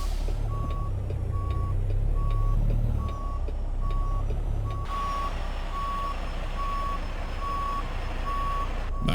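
A truck in American Truck Simulator backs up toward parked cars, its reversing alarm sending out steady, evenly spaced beeps. A low engine rumble and hiss run underneath throughout.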